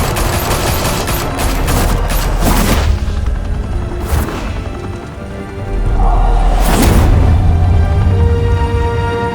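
Gunfire in the video game Batman: The Telltale Series, with loud, dense bursts of rapid shots and heavy booms in two main volleys, separated by a brief lull.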